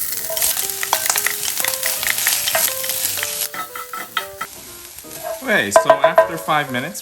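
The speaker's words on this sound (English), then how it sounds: "We're gonna add in our onions." Onions sizzle in oil in a preheated roasting pan, a close crackling fry with repeated clinks and scrapes of stirring; a person speaks briefly near the end.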